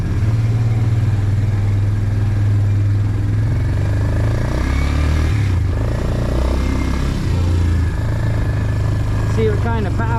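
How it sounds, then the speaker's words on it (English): Suzuki Ozark ATV that had sat for years, engine running steadily as it pulls through the gears, a loud, continuous mid-low drone with slight rises, close to the mic, with someone talking over it. "Let's take her for a little jaunt and run through the gears."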